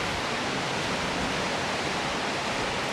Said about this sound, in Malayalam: ഓവർഫ്ലോ ആവണ വെള്ളമാണ് ഈ പോണം